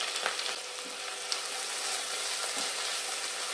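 Garlic, green chili and onion with curry leaves sauté in a pan, a soft, fairly quiet sizzle with a few faint stirring scrapes and no voices.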